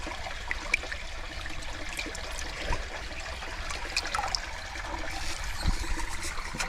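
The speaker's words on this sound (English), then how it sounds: "Doesn't need to be a particularly large trickle, just a little trickle." A small, partly blocked trickle of piped water runs quietly and steadily outdoors on a farm, a faint continuous dribble with a low background rumble.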